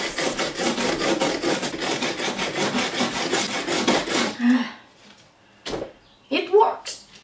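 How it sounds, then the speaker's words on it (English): Sheet of sanding paper rubbed on a homemade Power Rangers energem, giving a rhythmic series of rasping back-and-forth scrapes for about four seconds, followed by a few scattered knocks and handling noises. "You can also work with sanding paper sheets."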